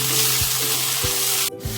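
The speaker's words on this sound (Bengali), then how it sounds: "তারপরে ভালো করে ভেজে নেব।" Pabda fish fries in a pan with a steady, close sizzle and three or so spatula scrapes at a slow, even pace, the hiss cutting off briefly near the end. No speech.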